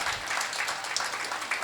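An audience applauds in honour of Dr. Khadar Valli: a brief, dense burst of many hands clapping together at close range, with no voices over it.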